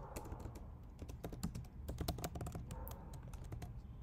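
Computer keyboard clacking steadily while code is written for a React Native app, quick irregular keystrokes close by with a low room hum and no talk.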